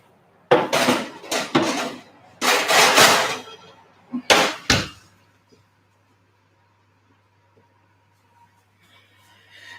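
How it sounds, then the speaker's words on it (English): A pan of Malaysian ayam percik chicken is slid back into a home oven, giving several loud metallic clatters and bangs in quick bursts, then near silence with a low oven hum. "I'm putting it back in the oven now for 15 minutes."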